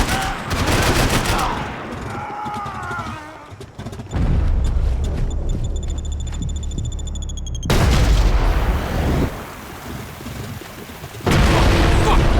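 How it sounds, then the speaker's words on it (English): Gunfire and explosions from the video game Max Payne 3, with dense rapid shots, heavy booms and bursts of automatic fire, loud and continuous, with voices shouting in between. "I can't concentrate with bullets whizzing past my head!"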